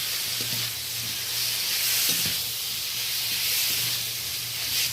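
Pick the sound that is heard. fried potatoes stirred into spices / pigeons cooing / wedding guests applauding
fried potatoes stirred into spices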